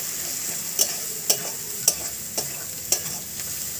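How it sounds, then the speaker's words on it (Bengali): Fish masala with turmeric and cumin powder sautés in a pan, giving a low steady sizzle. About six sharp scraping clacks from a spatula or spoon stirring against the pan come at roughly half-second intervals. "সামান্য একটু জিরের গুঁড়ো দিয়ে দেব, দিয়ে আবার এটাকে খুব ভালোভাবে কষিয়ে নেব।"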